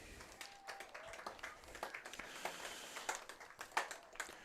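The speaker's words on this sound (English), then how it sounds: "Let's give a big round of applause for Braden Klein." Scattered, fairly faint applause from a crowd at a North Dakota high school football event honors a player, the claps uneven and loosely spaced.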